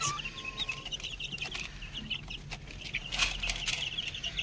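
Chickens on an Egyptian rooftop give soft, scattered clucks and short chirps, several birds close by in an irregular rhythm, with a faint wing flutter and no voices.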